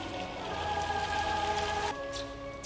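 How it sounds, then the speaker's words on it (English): Steady rain falls on a surface from the Doctor Who episode The Snowmen, a continuous hiss under a faint musical tone that cuts off abruptly near the end. "The globe. It's turning to rain."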